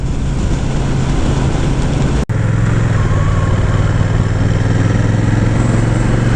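A 2025 Honda Rebel 1100 DCT motorcycle being ridden at a demo rally, its engine droning steadily and loudly with a brief dropout midway, then resuming with a stronger low rumble.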